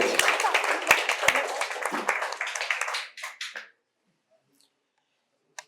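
Audience applause at a quiz competition prize-giving held at a medical college and hospital in Santiniketan, a dense burst of many hands clapping that fades out after about three seconds into near silence.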